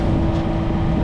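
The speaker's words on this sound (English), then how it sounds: "we fired up the engine" A sailboat's auxiliary engine runs steadily out on open water, a dense low mechanical drone with a constant throb, close and loud throughout, with no voices.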